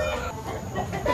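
Chickens on a free-range farm in Bangka, Indonesia, cluck and murmur nearby in a continuous, busy chatter over steady outdoor background noise.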